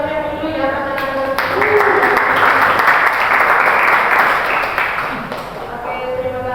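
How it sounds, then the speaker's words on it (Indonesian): Students at a scholarship seminar break into warm applause that swells over a voice on a microphone, holds steady and full, then tapers as speaking resumes. "tepuk tangan yang keren dulu ya anak-anak"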